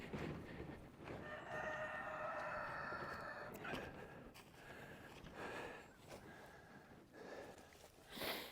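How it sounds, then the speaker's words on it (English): A rooster on a farm near a mobile chicken coop gives one drawn-out crow, fairly distant and soft, over quiet outdoor background noise. "We got roosters crowing, and we don't want them right by our windows."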